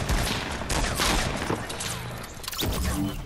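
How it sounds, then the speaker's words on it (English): A Fortnite player shoots at the ground, letting off a rapid, continuous burst of loud gunfire that rattles on for several seconds, with a couple of sharper cracks near the end. "this guy's shooting at the ground"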